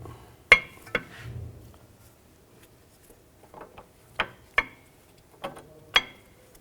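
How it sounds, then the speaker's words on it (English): Metal brake pads are set onto the caliper bracket of a 2010-2017 Chevrolet Equinox rear brake, making a handful of sharp, close clicks and clinks spaced irregularly across a quiet background. "Take the brake pads, put those on the bracket."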